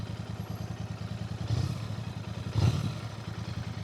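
Royal Enfield Bear 650 motorcycle idling with a steady low rhythmic burble, close by, with two short louder blips of throttle swelling the pulse before it settles back.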